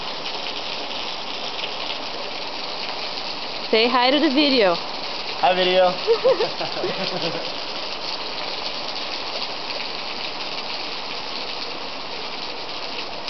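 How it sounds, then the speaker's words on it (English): Warm spring water near Hoover Dam runs down rocks in a steady, close gushing rush, while two voices briefly speak over it midway. "And you can see the water coming out of the rocks."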